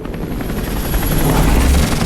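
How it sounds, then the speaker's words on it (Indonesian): A SWAT team helicopter in the game Detroit: Become Human thumps with a loud, steady rotor chop and engine roar. The sound stays close and continuous, swelling slightly toward the end. "Helikopter tim SWAT ya."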